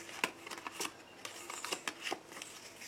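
Tarot cards are shuffled for a reading: quiet, close riffling and sliding with several crisp flicks at an irregular rhythm, soft overall.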